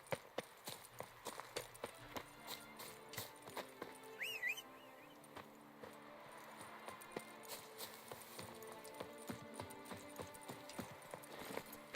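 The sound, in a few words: horse galloping in a video game, The Witcher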